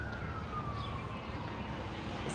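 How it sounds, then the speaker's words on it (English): Emergency vehicle siren on a New York street, a single tone sliding slowly downward as it passes at a distance, faint above steady city traffic rumble. "Nancy, when you live in New York, you hear sirens all the time."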